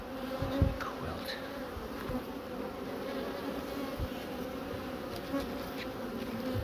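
Honey bees buzz around an opened hive at a coastal apiary, a continuous close swarm hum with occasional soft knocks and bumps.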